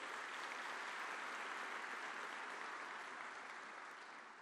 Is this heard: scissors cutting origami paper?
no